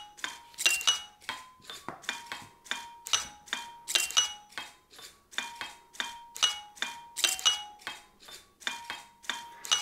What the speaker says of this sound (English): our doorbell here will play a tune.